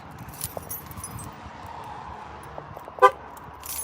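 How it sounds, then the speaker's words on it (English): A truck locked by remote gives one short horn chirp near the end, with faint key jangling and light shuffling earlier, heard outdoors in a store parking lot. "Lock my truck."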